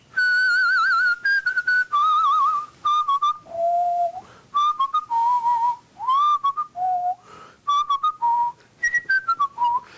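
A black street vendor's cry rendered as a whistled tune: a clear, loud solo whistle carrying a wavering melody in short phrases with brief pauses, sliding between pitches, with no talking.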